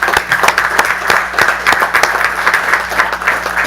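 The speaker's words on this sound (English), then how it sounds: "Let's give these guys a round of applause." A city council meeting audience gives a round of applause, close and fairly loud, many hands clapping in a continuous steady wash with a faint low hum underneath.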